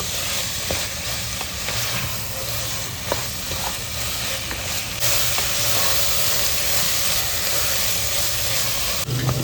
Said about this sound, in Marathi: सोडे आपण ऍड केलेत आणि एक जीव करून घेऊया ग्रेव्हीमध्ये